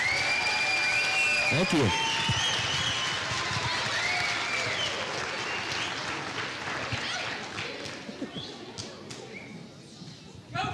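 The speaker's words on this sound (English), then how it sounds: "One more round of applause for them, if you would." Audience applause for a 5th and 6th grade school chorus at an elementary school Christmas concert, a steady wash of clapping that fades gradually over several seconds, with a brief spoken voice near the start.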